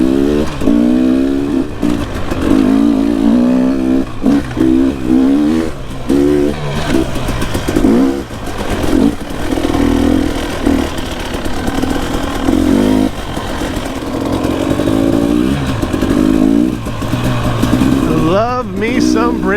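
Two-stroke and four-stroke dirt bikes rev hard on PNW singletrack, with rising and falling engine whine throughout, bursts of throttle for wheelies and a sharp upward rev near the end, loud and close.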